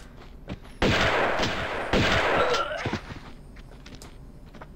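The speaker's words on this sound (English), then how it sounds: "Ow, I'm being shot at. Someone is shooting me." Enemy gunfire in Tomb Raider 2 arrives as two loud, rattling bursts of rapid shots close together, followed by fading scattered noises.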